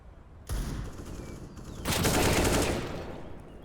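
Gunfire in Counter-Strike: Global Offensive: two sustained bursts of rapid shots, the first starting abruptly and the second louder and denser, then tapering into lingering echo.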